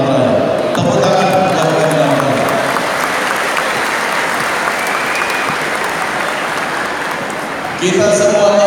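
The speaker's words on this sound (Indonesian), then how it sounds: "Tepuk tangan." An audience at the opening ceremony of a silat invitation tournament breaks into broad applause, a dense wash of clapping in a large hall, with someone speaking over the start and again as it fades.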